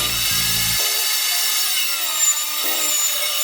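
Saw cutting through a wooden 2x4 board, a steady, close, bright rasping hiss held throughout, with a short low mechanical rumble at the very start.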